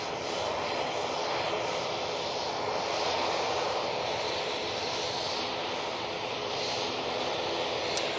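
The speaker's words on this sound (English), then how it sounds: "Hope you enjoyed that very noisy" Airliner departing Manchester Airport, a loud, steady broadband engine roar that fills the whole stretch without easing, no voices over it.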